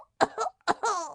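A boy coughs in two quick, harsh bursts at close range, as if choking on smoke, a short sound effect for an audiobook with no talking over it.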